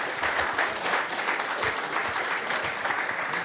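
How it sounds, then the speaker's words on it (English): Applause from the crowd at a CISO panel session of a Toronto cybersecurity conference, a sustained even patter of many hands, fairly soft and steady throughout. "How about a round of applause for our panelists?"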